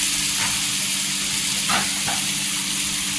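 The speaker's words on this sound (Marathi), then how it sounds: "अद्रक आणि लसणीची पेस्ट टाकायची एक चमचा छान अशी तेलावर परतून घ्यायची" Ginger garlic paste fries in hot oil in a Maharashtrian home kitchen, a constant close sizzle and hiss with a couple of brief stirring scrapes, no talking.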